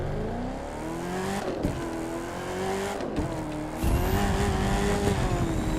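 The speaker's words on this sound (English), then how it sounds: "So this is the Camaro, my 4th fastest car." A Chevrolet Camaro driven in the racing video game The Crew 2, its engine droning steadily with pitch swells and brief dips at gear shifts, growing louder near the end, with no talking.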